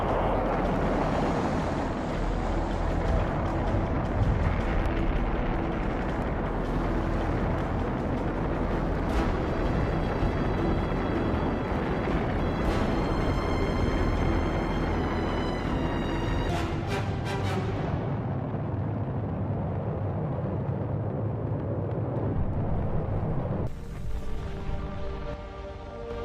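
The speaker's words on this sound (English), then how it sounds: "Ignition sequence start." Deep, continuous engine roar from the Apollo 11 rocket launch, a dense broadband rumble with crackling texture that stays loud and steady for the whole stretch, with no voices.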